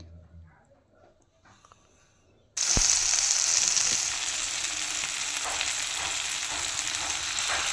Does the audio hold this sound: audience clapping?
no